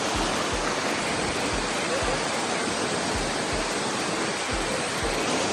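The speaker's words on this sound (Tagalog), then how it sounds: "Ganda ng agos ng tubig." Waterfall water pours and churns in a steady, loud, broadband roar that fills the whole clip without a break, with low thumps scattered throughout.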